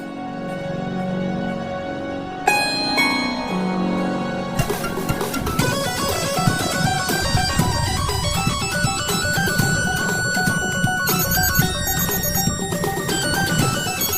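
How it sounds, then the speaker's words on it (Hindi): A phone ringtone plays a repeating electronic melody, which grows busier and louder partway through and continues steadily to the end. "इसका फोन आया।"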